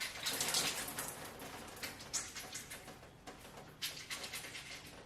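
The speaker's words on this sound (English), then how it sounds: "Then I scrunch the conditioner into my hair." Conditioner is scrunched into wet, curly hair, giving close squelching, squishy pulses in an irregular rhythm, with soft, wet crackles between the squeezes.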